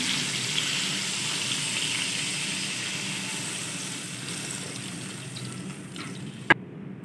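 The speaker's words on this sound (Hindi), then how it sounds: "और पानी डाल दूंगी इसमें।" Water poured into a frying pan with chicken tikka, onions, green chillies and chopped garlic, giving a steady close rushing hiss that fades, ending with a single sharp clack.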